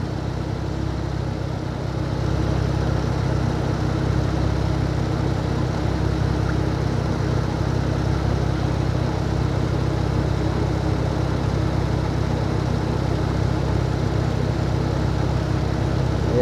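A 2012 Chevrolet Camaro, freshly back on the road after a radiator repair, idles steadily with an even, low engine drone that stays constant and close throughout, with no talking.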